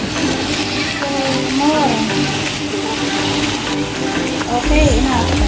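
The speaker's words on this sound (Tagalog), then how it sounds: "Lalagyan na natin siya ng tubig po." Water being poured into a cooking pot of crab, giving a steady, loud rush and splash that lasts throughout, with someone speaking over it.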